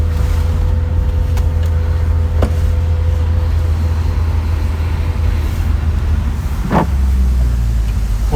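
A 2002 Honda S2000 engine idles while warming up, a steady loud low rumble with a constant hum, broken by a couple of brief clicks and a short mechanical burst near the end.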